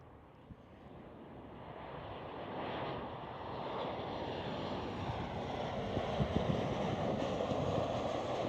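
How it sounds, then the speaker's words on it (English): A Ryanair Boeing 737 jet at Amsterdam Schiphol airport gives a broad, distant engine roar that swells gradually and stays heavy throughout, with no talking. "Next one up is a 737."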